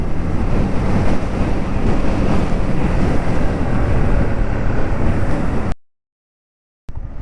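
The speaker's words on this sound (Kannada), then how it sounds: "ಕೋಲ್ಡಾಗಿ ಗಾಳಿ ಬರ್ತಾ ಇದೆ" Cold wind buffets a microphone during a solo motorcycle ride through Tamil Nadu, a loud, continuous roaring rush that cuts to silence for about a second near the end before briefly returning.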